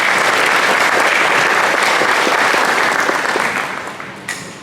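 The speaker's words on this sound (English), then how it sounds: "Let's have a round of applause for all of them." An audience at an elementary school assembly gives a long, loud round of applause for fourth graders, steady dense clapping that tapers off near the end.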